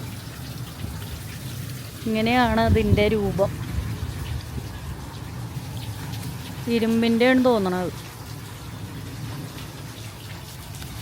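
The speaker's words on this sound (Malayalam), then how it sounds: "ഇങ്ങനെ വെള്ളം വീഴുമ്പോഴേ ആ ചക്രം ഇങ്ങനെ കറങ്ങിക്കൊണ്ടിരിക്കുക" Water splashes steadily onto a turning iron water wheel in the village of Smithville, New Jersey, a continuous wash of falling water heard up close while someone speaks over it twice.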